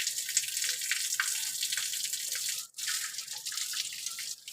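Water runs and splashes steadily while someone is being bathed, a continuous close hiss with a few brief drips and one short break near the end, no voices.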